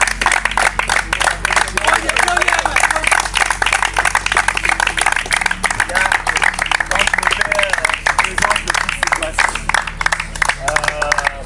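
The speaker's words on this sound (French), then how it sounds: "Donc, on s'ouvre aux applaudissements." Audience at a martial arts club event claps continuously and loudly, dense fast clapping close by with a low background hum underneath.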